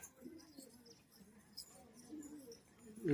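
Soft cooing from Giribaz pigeons of Murshidabad in a pigeon sale setting, low and faint, repeating in gentle pulses with a brief louder sound at the very end.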